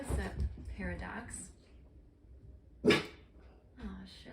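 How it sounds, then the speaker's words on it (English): A dog reacts to a walker going by with one sharp, close bark or huff between stretches of a person talking. "my dog did not like the walker going by"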